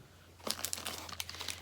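A plastic bag crinkles in close, sharp bursts of rustling that begin after a quiet moment and continue irregularly, soft but clear against a faint steady hum.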